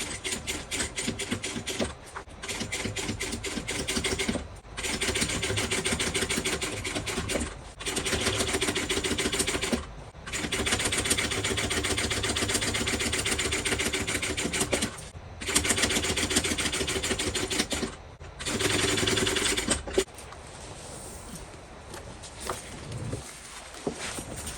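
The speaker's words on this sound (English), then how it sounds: "we're going to top stitch on the lining side" A sewing machine top stitches the lining side of a Coupeville tote bag in long rapid runs of needle strokes, separated by several short pauses, with a quieter stretch near the end.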